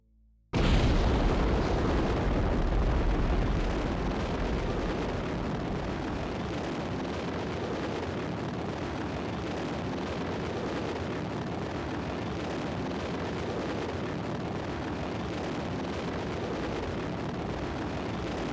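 A rocket engine fires in Kerbal Space Program with the RP-1 mod, bursting in as a sudden loud roar and settling into a steady, dense rumbling hiss that holds alone for the rest of the stretch.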